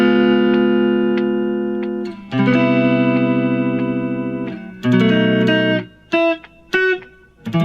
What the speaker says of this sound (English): I'm using a thin pick so that I get this really light strumming sound